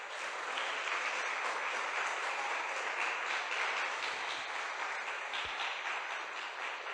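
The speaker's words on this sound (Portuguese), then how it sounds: "Dá um louvor de palmas para o Senhor nessa noite." Congregation in an evening church service giving sustained applause, a dense, even roar of many hands clapping that holds steady from start to finish with no voices over it.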